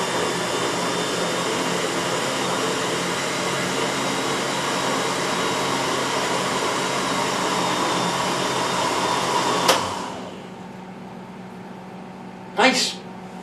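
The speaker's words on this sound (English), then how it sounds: "And get the blender going." A blender whirs steadily at low speed through a batch of potato soup, a continuous motor drone under talk that cuts off abruptly near the end, followed by a brief clatter.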